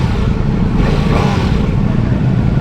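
A Ducati Multistrada V4 S Pikes Peak motorcycle engine revs hard and loud, a dense rumbling roar that stays close and steady throughout.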